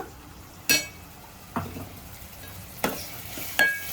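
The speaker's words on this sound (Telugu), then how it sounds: "నేను ఇప్పుడైతే కొంచెం అల్లం పేస్ట్ వేసుకుంటున్నా" Ginger paste cooking in a curry pan with tomato, a low steady sizzle broken by four sharp scrapes or stirs of a utensil against the pan, close and moderately quiet, with no talking.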